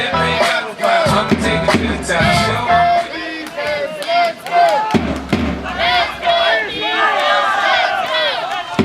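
A crowd cheers and shouts at an American football game between Wrocław Devils J and Wrocław Giants J, loud overlapping yells and whoops rising and falling in waves, with voices calling out close by.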